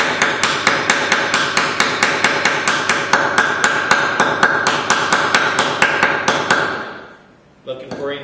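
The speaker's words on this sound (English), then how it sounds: "This side is a lot tighter than the other side, so I better make sure I'm at 90 degrees when I hammer it." A hammer taps a wooden practice dovetail joint together in a steady series of about forty sharp, close, evenly spaced knocks, then stops, leaving a short quiet gap before a final faint rustle.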